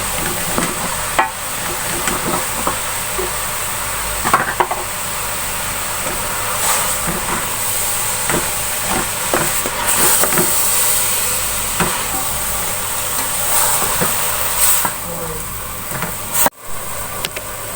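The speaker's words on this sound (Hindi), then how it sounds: "और मैं पालक को मिक्स कर लूँगी। चूल्हा मैंने तेज कर दिया।" Spinach sizzles in a pan over a high flame, a steady moderate hiss broken by periodic scraping stirs and clinks, with no talking.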